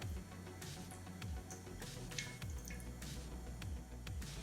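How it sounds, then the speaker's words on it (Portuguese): Homemade foam is added to slime, heard as faint, soft wet drips and squishy plops scattered irregularly across a quiet, close background with no speech. "Agora eu vou colocar a minha espuma caseira, que eu fiz em casa mesmo"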